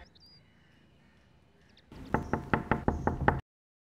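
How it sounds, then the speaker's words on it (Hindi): Knuckles rap on a door in a quick series of about seven firm, close knocks after a quiet moment, then silence. "मिराल, मिराल बेटा दरवाजा खोलो, मेरी बात तो सुन लो."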